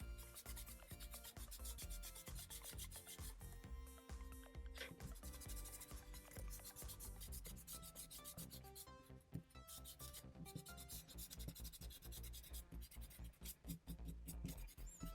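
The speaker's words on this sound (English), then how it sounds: "I'm going to start erasing the outside square, but I'm not going to erase the center lines" A pencil eraser rubs back and forth on paper while erasing a drawn square, making a loud, close, continuous scrubbing and scratching sound with a brisk uneven rhythm throughout.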